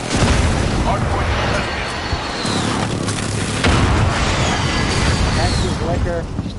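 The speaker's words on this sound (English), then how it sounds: "Friendly precision airstrike on the way." Heavy booming airstrike blasts from a Call of Duty match, a dense roar of explosions and rumble layered with game noise and chatter, loud and sustained throughout.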